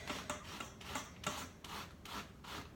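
A brush scrubs gunk off a mop pad in quick, even back-and-forth strokes, a soft rasping rub repeated about six times, close and fairly quiet with no voices.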